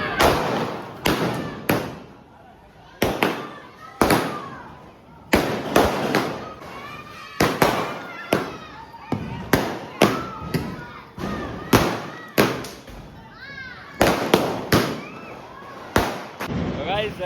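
Diwali firecrackers burst one after another at night in Surat, sharp loud cracks and thumps in an irregular volley of more than a dozen blasts, each leaving a short ringing tail, with faint crowd noise between them.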